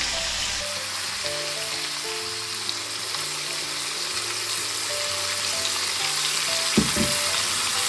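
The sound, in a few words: stirring chicken and pork adobo sizzling in the pan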